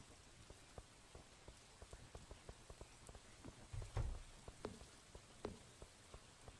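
Rain falling in the farming video game Stardew Valley, a soft steady patter with light irregular drip ticks and a slightly louder thud midway, faint and without talk.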